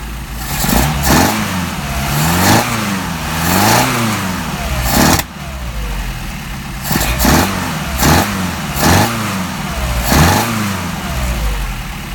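A car engine fitted with a Solex carburetor idles near 650 RPM and then revs up repeatedly in short bursts, each rise and fall clear and loud, with no talking.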